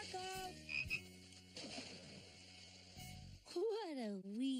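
Carmello, a cartoon pet frog, gives a series of deep, resonant croaks, followed by a wavering, voice-like warble, with spoken dialogue around it.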